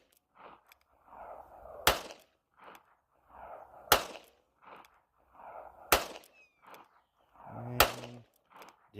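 Four sharp revolver shots ring out at an even pace about two seconds apart, moderately distant and fairly faint, with softer shuffling and handling noises in between.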